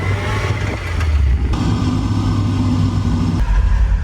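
A freshly rebuilt 1.8-litre Mazda Miata engine roars loud and close through hard pulls and decelerations, its note dropping and surging again in a few distinct shifts over several seconds.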